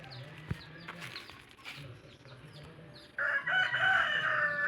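A rooster crows loudly from the chicken coops on a farm and rises to a strong, sustained call near the end, with other chickens clucking and chirping in the background.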